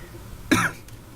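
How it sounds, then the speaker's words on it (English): A single sharp cough, close and fairly loud, lasting a fraction of a second against quiet background. "Excuse me, I'm still coughing."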